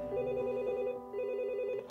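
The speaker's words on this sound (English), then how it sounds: "My phone rings" A telephone rings in a close, steady electronic trill lasting about two seconds, with a brief break partway through and nothing else around it.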